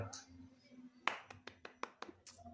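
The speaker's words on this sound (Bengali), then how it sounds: "হাততালি।" Scattered hand claps, a handful of sharp separate slaps in an irregular rhythm, fairly close and faint against a quiet background.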